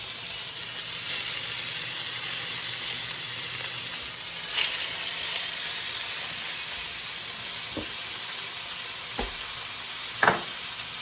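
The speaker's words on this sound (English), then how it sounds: "Now that we got a bit of butter in the pan, we're just going to kind of baste it." Steaks sear in a pan with melted butter, giving a steady loud sizzle and hiss throughout, broken by a few sharp pops and spatters near the end.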